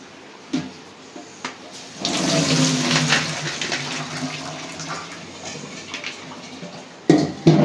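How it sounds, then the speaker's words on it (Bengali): Water from boiled chicken offal is strained off, a steady pouring rush of water that runs for several seconds, with brief clatters of utensils before and after. "এখন পানিটা ছেঁকে নিব।"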